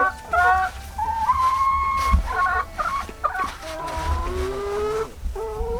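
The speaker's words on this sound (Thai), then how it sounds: "อันนี้เลี้ยงไก่มา สิบสามตัวจ้ะ" Farm chickens cluck and call in rising, drawn-out squawks, several birds close by, with a low background hum beneath them and no talking.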